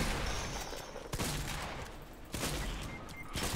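Gunfire in the video game Fortnite crackles in quick bursts and sharp single shots, fairly faint and distant, spread across a short stretch of play.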